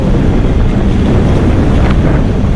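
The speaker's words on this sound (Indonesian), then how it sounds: "nah anginnya kenceng banget deh" Strong wind at sea in the Sunda Strait roars loudly and continuously, buffeting the microphone with a dense, low rumble and no pauses.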